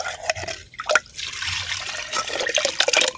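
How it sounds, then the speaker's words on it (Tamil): Cooked lentil water pours and trickles steadily into a pot, a wet splashing stream running for a few seconds with small drips and gurgles. "வேக வச்ச பருப்பு தண்ணி வந்து சேர்த்துக்கிறோம்"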